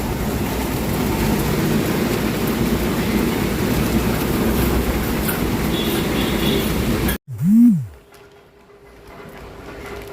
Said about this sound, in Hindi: और आई है तेज़ बारिश।